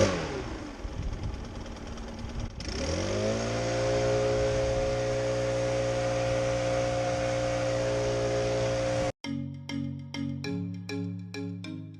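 A STIHL BR 800 backpack leaf blower engine runs at a steady, loud drone with a sharp change about a few seconds in. Near the end it gives way to a choppy series of rhythmic pulses.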